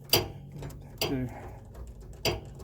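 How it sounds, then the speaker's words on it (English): Ratchet wrench backing out 3/8 bolts set with Loctite on a motorhome slide, three separate sharp clicking bursts close up with quiet pauses between. "ratchet these all the way out because I put Loctite on them"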